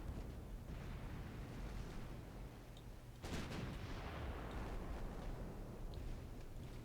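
Deep, booming 4-inch naval guns fire in a battle-cruiser fight in Ultimate Admiral Dreadnoughts, with a sharp loud report about halfway through over a constant rumbling background of distant gunfire and sea noise.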